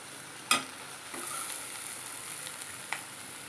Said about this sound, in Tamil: இப்போ நம்ம இந்த பீட்ரூட் வந்து சேர்த்து வச்சுருக்கோம் இல்லையா, இதை வந்து இதில் சேர்த்துடலாம்.